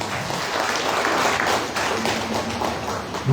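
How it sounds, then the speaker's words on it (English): Audience applause for a speaker at a heritage lecture event, loud and dense steady clapping from a crowd throughout, without talk. "Please, can we give him another round of applause?"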